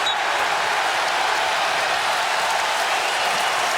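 Capacity crowd at a Michigan basketball game against Iowa, a loud continuous roar of cheering and applause filling the arena without a break.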